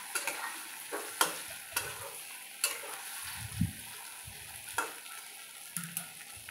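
Leftover masala is stirred through hot oil in a pan for stuffed brinjal, with soft frying sizzle under repeated sharp scrapes and clinks of the spoon against the pan at an irregular pace, close up and without speech.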